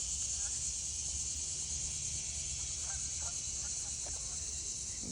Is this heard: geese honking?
yes